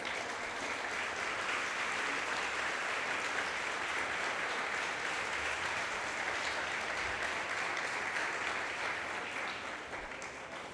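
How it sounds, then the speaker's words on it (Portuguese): A church congregation claps together in sustained, dense applause, a steady wash of hand claps holding at an even level for about ten seconds before easing slightly at the close. "dá um aplauso ao Senhor Jesus"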